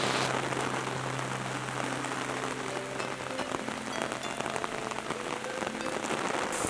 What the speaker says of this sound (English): this does not seem like the sort of rain that's gonna be gone in another few minutes